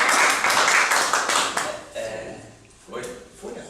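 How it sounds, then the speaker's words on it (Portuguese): A group claps hands together at a class session, a quick dense burst of clapping that fades over a few seconds with scattered later claps. "Vamos bater palmas."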